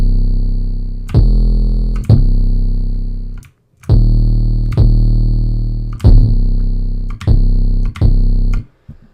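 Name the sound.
Ronny J style 808 bass with MDA Degrade distortion in FL Studio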